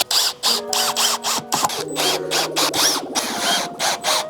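A power drill drives pocket screws into a desk board in short whirring bursts with ratcheting clicks and pauses between them, close and fairly loud.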